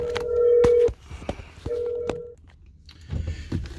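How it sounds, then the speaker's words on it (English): Telephone keypad dialing tones for a phone call: a few distinct beeps of varying length, close and clear, with faint rustling and handling noise between them. "Phone call."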